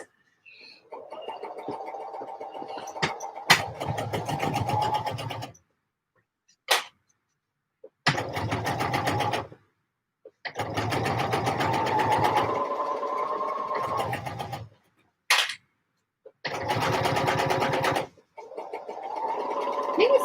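A home sewing machine stitches navy fabric for a pouf in a series of separate runs, each a steady buzzing whir that stops and restarts between short pauses, with brief clicks and handling noises in the gaps.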